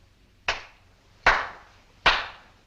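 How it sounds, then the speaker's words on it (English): Three sharp hand claps ring out alone, evenly spaced about three-quarters of a second apart, each crisp and close with a short decay into near silence. "I clap my hands 3 times"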